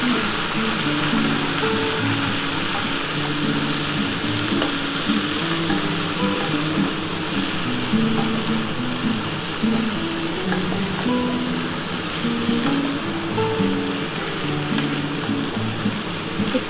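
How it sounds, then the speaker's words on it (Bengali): A ground paste of ginger, poppy seed and mustard sautés in a pan with a dense, steady sizzle. Stirring scrapes run under it throughout, and no one speaks. "আগে ভালো করে একটুখানি কষিয়ে নিই"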